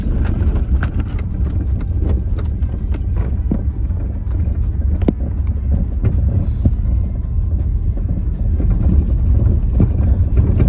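A car drives over a rough, bumpy road, its loud rumble punctuated by frequent sharp knocks and jolts from the suspension and body, close and continuous.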